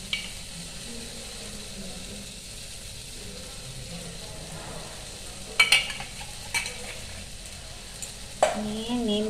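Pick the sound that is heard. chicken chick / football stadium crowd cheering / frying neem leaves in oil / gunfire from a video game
frying neem leaves in oil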